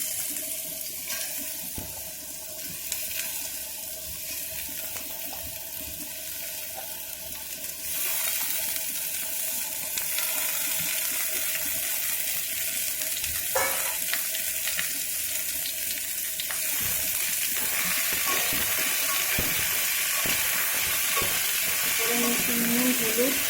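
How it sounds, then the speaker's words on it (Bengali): Potatoes dropped into hot oil and frying in a pan, a steady soft hiss of sizzling that grows denser and louder partway through, with occasional clinks of utensils. "আলুগুলোকে আমি ভেজে নেব।"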